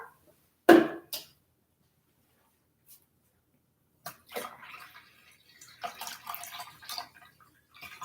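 Water poured into a clear container for a balloon-inflating experiment, with a sharp splash at first, then a short trickle, and later several intermittent pours and small splashes, close and fairly quiet.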